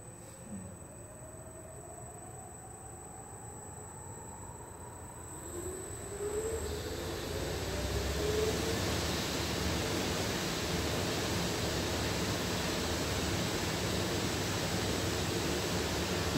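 A Magnum Gravity pre-roll centrifuge spins up, its broad whooshing roar rising in pitch and loudness over several seconds, then holding a steady, dense rushing drone up close.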